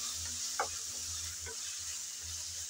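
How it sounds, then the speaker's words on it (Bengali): Onion, garlic and ginger paste fry in oil in a pan. A faint, steady sizzle runs throughout, with a few soft scrapes and taps as a spoon stirs now and then. "আদা রসুন আবারও পেঁয়াজের সাথে ভালো করে নেড়ে চেড়ে ভেজে নেব"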